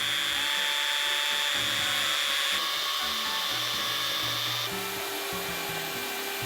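An As Seen On TV hand tool saws through wood with a steady, close, continuous rasping scrape that runs the whole way without pause.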